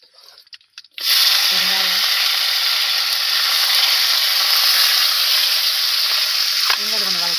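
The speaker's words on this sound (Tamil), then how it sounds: "வெங்காயம் கொஞ்சம் வதக்கிடலாம்" Onions and curry leaves drop into hot oil already holding cinnamon and fennel for a chicken dish, erupting into a loud, sustained close-up sizzle that hisses on continuously, with a short voice heard near the start and end.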